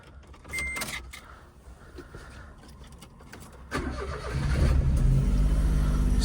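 A Mazda RX-7 cranks and fires up: faint clicks and shuffling at first, then the starter catches and the rotary engine settles into a louder, steady rumbling idle close by, with no talk.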